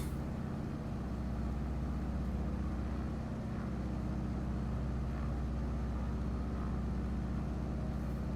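Cessna 195 Businessliner radial engine droning steadily on landing approach in a flight simulator, a loud continuous low hum with even engine tone throughout and no speech.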